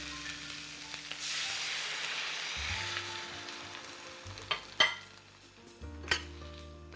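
Sauce goes into a sizzling vegetable and seitan stir fry, producing a soft hiss that swells and fades, followed by a few clanks of utensils against the pan and quiet stirring.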